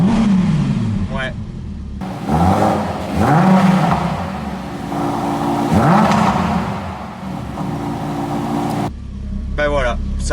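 An Audi R8 V10 GT RWD engine runs nearby, revving in several rising surges with a mid-pitched throaty roar between quieter stretches, and someone talks over parts of it.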